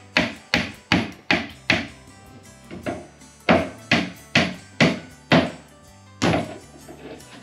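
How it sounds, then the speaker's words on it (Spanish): A hammer drives small nails into an IKEA MALM four-drawer dresser (80 x 100 cm) during assembly. Close, loud, resonant wooden knocks come in quick runs of several blows separated by short pauses, with no talking. "ponemos 2 clavos en donde nos pone la imagen y para eso necesitamos un martillo"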